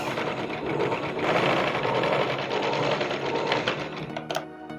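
A sewing machine runs steadily while stitching a sleeve onto a tucked blouse, a continuous close mechanical whir of rapid needle strokes that slows and clicks to a stop near the end.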